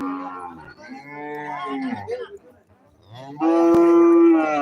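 Cattle at a livestock market moo loudly and close by: one drawn-out call, a short pause, then a second, steadier bellow.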